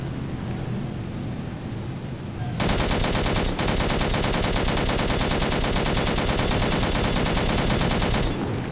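Rapid sustained machine-gun fire during a space dogfight in Angels Fall First, starting abruptly after quieter engine ambience and rattling on loud and dense for several seconds before cutting off.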